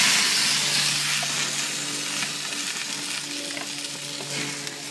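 Steaks sizzling on a hot grill with oil, a loud close hiss that starts strong and settles into a steady crackling fry with small pops.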